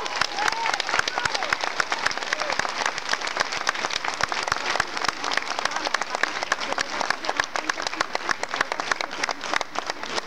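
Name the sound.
applause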